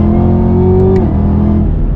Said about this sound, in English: when you're at like really low speeds, you will get some tire spinning like I got right there